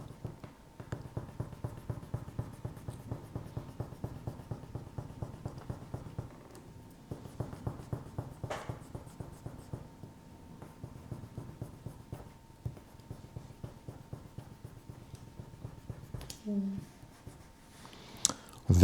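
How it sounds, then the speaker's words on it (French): A pencil pressed hard on paper scratches steadily back and forth close up, transferring a design onto lino, with quiet pauses and faint handling noises toward the end, alone without talk. "on appuie bien fort sur le crayon pour le transférer"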